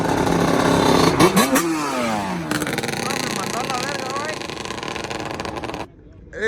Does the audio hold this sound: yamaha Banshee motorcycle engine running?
yes